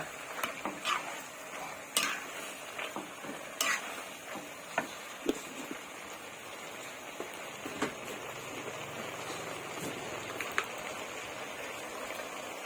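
Pork and bamboo shoots stir-fried with shrimp paste in a pan, with a soft background sizzle broken by irregular scraping and clinking of a spatula against the pan, fairly quiet.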